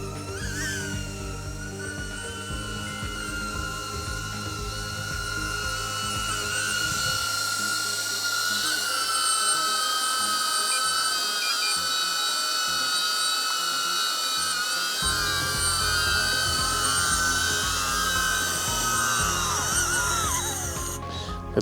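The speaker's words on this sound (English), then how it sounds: "Hello little drone, glad you're home." A DJI drone's propellers whine in a high, tonal buzz as it flies back on auto return-to-home, the pitch wavering and shifting as it nears, then cutting off abruptly as it lands.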